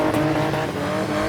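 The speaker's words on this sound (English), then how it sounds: "Spinning is the fastest growing extreme motorsport in South Africa" A car spins through a tight extreme-motorsport stunt in South Africa, its engine roaring steadily up close while tires squeal faintly under the drone, loud and continuous throughout.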